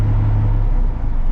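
A pickup truck engine idles close by as a steady, loud low rumble. The drone holds even for the whole moment, with no talk over it.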